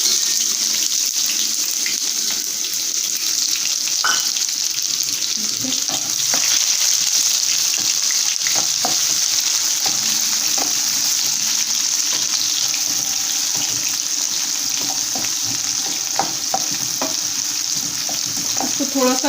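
Chopped onions fry slowly over a low flame in oil already tempered with mustard seeds for vegetable sambhar, giving a steady, even sizzle with faint scattered pops that runs on for a long stretch without speech.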